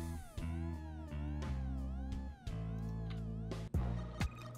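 A cat in the video game Rats - Time is Running Out meows in a series of loud, harmonic, wavering cries one after another, close and clear, with a few sharp thumps near the end.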